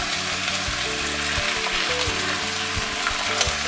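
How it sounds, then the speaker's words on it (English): Chicken curry braising in a covered pan, a steady close sizzle and frying crackle with soft stirring scrapes running throughout, no voices. "We are not burning it, we are braising it."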